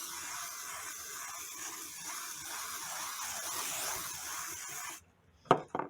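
A can of KK2000 temporary spray adhesive hisses continuously onto quilt fabric for about five seconds, close and steady, then stops, followed by brief handling noises.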